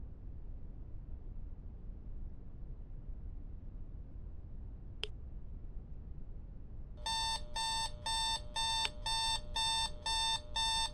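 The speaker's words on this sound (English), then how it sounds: "Ghost really likes this alarm clock." An alarm clock rings in the second half, a rapid series of bright electronic beep bursts repeating steadily over a quiet room hiss, preceded by one brief sharp click.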